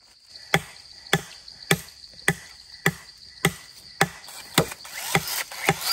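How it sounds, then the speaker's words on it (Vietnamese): A piece of bamboo is chopped with about nine sharp, evenly spaced blows, each a crisp woody crack close by, with no talking. "Bây giờ mình sẽ chặt một khúc tre này về để làm chuồng rũi."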